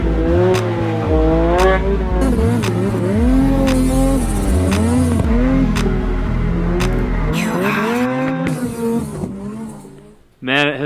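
Two Ski-Doo twin turbo snowmobiles rev hard out on deep snow, engines rising and falling in loud overlapping pulls, close by, before the noise drops off near the end.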